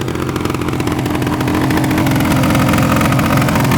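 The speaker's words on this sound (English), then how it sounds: "Does that engine sound good or what?" A 1974 750cc two-stroke motorcycle engine idles steadily up close, its rapid buzzing putter growing slightly louder and fuller after the first moments.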